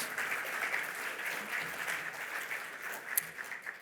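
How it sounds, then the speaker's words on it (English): Applause from an audience at a religious talk with a live shahada, steady dense clapping sustained throughout at a moderate, slightly distant level with no voices over it. "Please give him a big round of applause."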